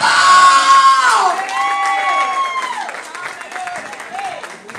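A church congregation claps and cheers for the man of the house, a dense burst of applause and voices that is loudest at first and then eases into a steady, lively crowd noise with shouts rising over it.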